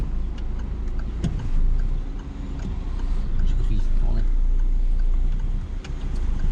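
A car engine hums low and steady as the car reverses slowly into a parallel parking space during a driving lesson, with people talking over the drone.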